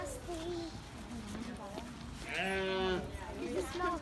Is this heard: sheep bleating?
yes